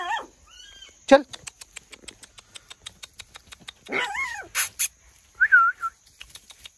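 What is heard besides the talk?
puppies whimpering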